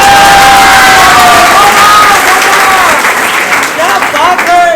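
An audience claps loudly at a Hindi kavi sammelan poetry recital, dense sustained applause with cheers and shouts mixed in, continuing throughout without a break.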